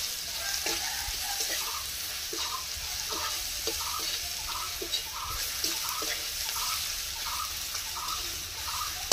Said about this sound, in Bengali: আমি আদা রসুনের পেস্টটা দিয়ে দিলাম। একটু নাড়তে থাকবো এটা।